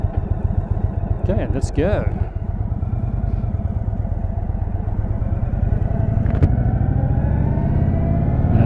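An Indian Chief motorcycle on a test ride with a new 17.8 inch screen, its engine giving a steady low rumbling throb with wind noise close up, while a rider speaks briefly near the start.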